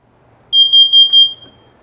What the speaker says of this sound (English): If your carbon monoxide detector or your smoke detector goes off, you should never re-enter your house.